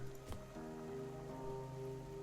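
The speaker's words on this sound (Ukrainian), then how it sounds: "Тут цікаво дощ іде." Steady rain falls in the video game Cataclismo, a soft continuous patter layered over sustained musical tones, with one brief sharp tap near the start and no voices.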